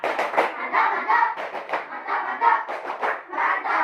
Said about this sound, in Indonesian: tepuk mantap